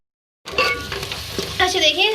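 Tomatoes frying in a pan, a close sizzle that starts abruptly after a short silence, with stirring scrapes and a brief faint voice.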